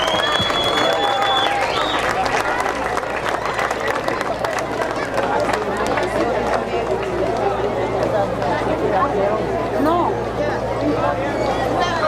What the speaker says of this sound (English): and one more round of applause here